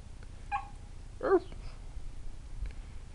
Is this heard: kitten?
yes